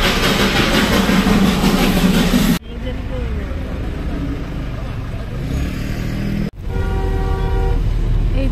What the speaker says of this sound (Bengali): অবশেষে দেখা মিলল সেই বিখ্যাত টয় ট্রেন।